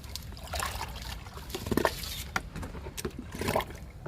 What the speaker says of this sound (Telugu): ఇప్పుడు లిక్విడ్ని డైల్యూట్ చేద్దాము